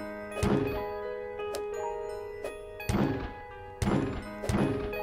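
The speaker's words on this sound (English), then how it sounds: "You can't just bang onto your head on every single wall." A game character in Egg hunt simulator bumping into walls, heard as several loud, hollow thunks spaced about a second apart, each ringing briefly over a steady tonal background.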